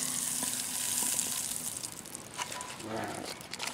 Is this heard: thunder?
no